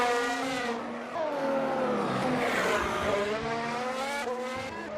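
Race cars in an F1 racing video game at the Baku City Circuit for the 2018 Azerbaijan Grand Prix, spinning out and striking the wall: continuous loud engine whine with shifting pitch and tire squeal, steady throughout.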